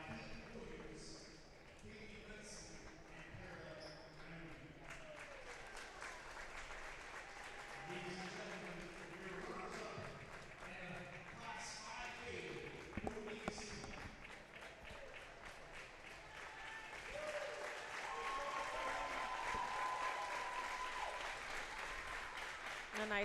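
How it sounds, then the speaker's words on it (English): Applause for the John Marshall Monarchs volleyball team from fans at the Echo Center in St. Clairsville after the OVAC 5A championship match, a steady crowd roar of clapping lasting throughout with voices mixed in. "A nice round of applause there for the John Marshall Monarchs"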